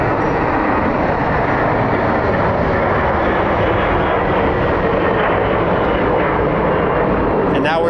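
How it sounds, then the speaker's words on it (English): A Delta airliner takes off at Phoenix Sky Harbor airport, a loud, continuous broadband engine roar that holds steady and close throughout. "we got to get this Delta taken off"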